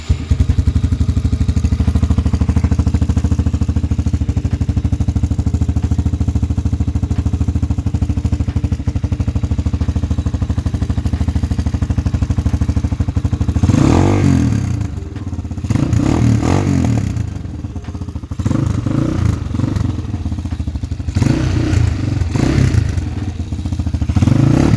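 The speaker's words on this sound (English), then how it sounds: "But let's start this bike now." X-Pro Hawk 250 motorcycle engine idling at a loud steady rumble for a long stretch, then revved in several short bursts near the end.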